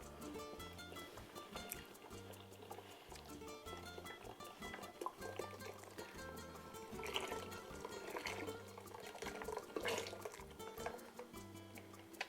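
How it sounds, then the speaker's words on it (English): Beef broth poured into a pot for meatball soup (caldo de albondigas), a faint, continuous watery splashing and trickling with some clinks, over a low background hum. "now we're gonna add 4 of the beef broth"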